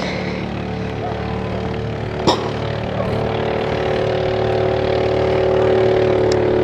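A boat's diesel engine idles steadily and fairly loud during an inspection of a cargo boat, a continuous low rumble with a brief knock partway through and someone speaking over it.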